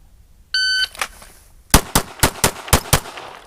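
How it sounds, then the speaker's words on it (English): Rapid pistol gunshots during fast shooting practice at a range: a short electronic beep, then six or seven sharp, loud reports fired in quick succession at an even pace. "we're going to do some fast shooting"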